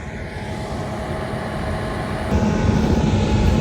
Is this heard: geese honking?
no